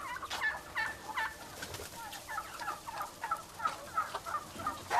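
Turkeys and chickens on a farm near Goslar, with repeated gobbling and clucking calls from several birds overlapping steadily throughout.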